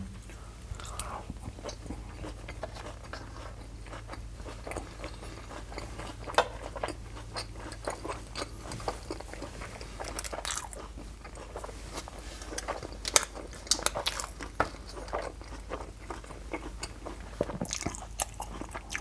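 Someone bites into and chews a Thai sweet of coconut cooked with sugar, producing close, soft, irregular crunches and moist mouth sounds over a quiet background, with a few sharper bites standing out.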